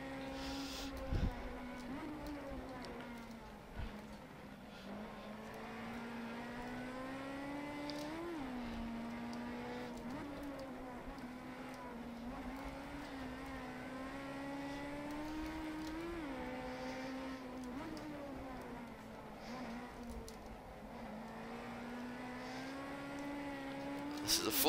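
A Datsun Bluebird SSS race car's engine drones steadily at high revs around the Ibarra circuit, its pitch rising and dipping through gear changes and corners, loud and close throughout with brief bumps and thuds.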